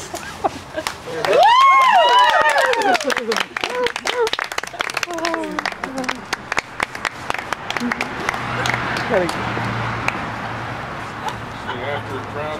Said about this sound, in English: After the crowd is done cheering,